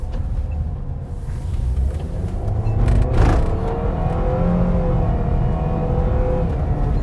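Toyota All New Avanza 2022 with a CVT transmission driving around, heard from inside as a steady low engine and road rumble with a smooth, rising drone and a brief louder swell midway, no talk.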